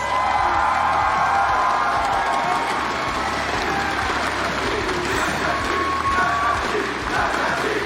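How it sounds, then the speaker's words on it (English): A large crowd at a 2019 United States Nationals esports event applauds and cheers its champions with steady, dense clapping and whoops that carry on throughout. "let's give our champions a round of applause"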